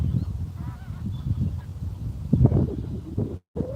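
Geese honk outdoors in bright, breezy countryside among birds, cows and ducks, several calls overlapping at moderate distance with wind noise underneath.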